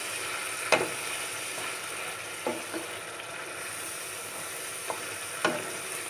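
Chicken coated in ground spice paste frying in a pan, a soft continuous sizzle with a few sharp scraping clicks from stirring, close and moderately quiet.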